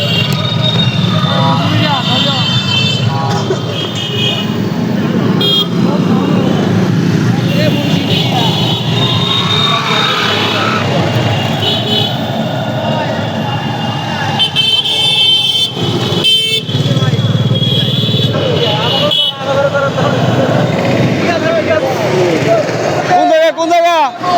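Convoy of over 500 motorcycles, buses and cars heading to a BNP rally in Rasulpur union, Shashibhushan, heard as a loud continuous roar of engines with repeated horn honks, under steady talk and crowd noise.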